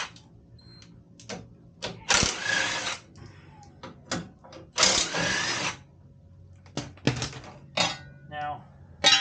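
A tool spins off 15 mm bolts from the front bumper of a Chevy Silverado, with sharp, loud bursts of ratcheting and whirring cut by short pauses, metallic clinks and brief taps between them.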